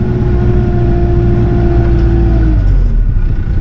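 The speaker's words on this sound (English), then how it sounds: "So I'm getting some compaction with the tractor." A tractor drives over a washed-out ditch to compact the soil, its engine a loud, steady close-up drone that drops in pitch near the end.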